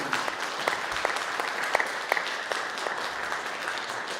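Conference audience at CUNY applauding sponsors, a dense, even patter of many hands with occasional louder single claps, steady throughout and without speech on top.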